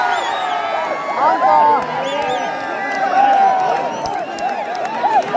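A huge crowd of spectators at a Nepali volleyball match, a dense roar of voices with whoops and cheers swelling and ebbing, under someone talking loudly over it.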